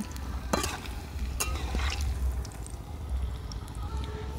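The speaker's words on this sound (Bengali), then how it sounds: "বাকিগুলো ঠিক একই রকমভাবে ভেজে নেব।" Cauliflower and egg fritters frying in hot oil, a continuous close sizzle with occasional stirring clinks and soft bubbling throughout, no voices.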